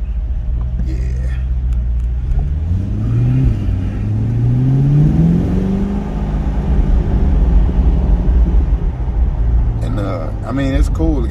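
Rear-engined car accelerating hard, its engine note climbing through rising revs and gear changes, loud and close from inside the cabin, with people talking over it.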